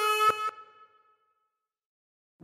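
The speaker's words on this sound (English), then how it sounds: "Breathing through three and bend the note to produce A." A harmonica draws on hole three with the note bent, giving a short reedy tone that fades out quickly, followed by a faint tap near the end and no voices.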